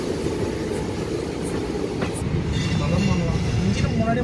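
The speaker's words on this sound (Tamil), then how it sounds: "இப்போ வண்டி திருநெல்வேலி ஜங்ஷனுக்குள்ளே என்டர் ஆகுது." Onboard the Tiruchendur Express as it rolls into Tirunelveli Junction, a continuous low rumble of wheels and carriage noise fills the space, with faint rail squeals and clicks over it.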